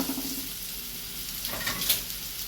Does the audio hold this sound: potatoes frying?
yes